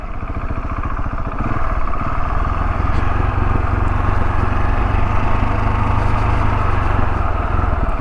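A KTM 690 Enduro R dual-sport motorcycle on a trail ride, its single-cylinder engine running steadily with a loud, even thrum that rises slightly after the first second and holds throughout.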